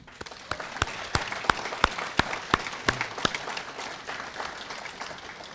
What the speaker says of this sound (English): We can applaud for them.